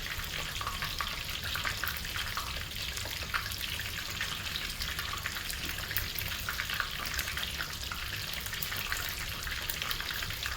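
Chicken pieces fry in beef tallow in a cast iron skillet, giving a steady, dense sizzle that stays loud and even for the whole stretch with no one talking.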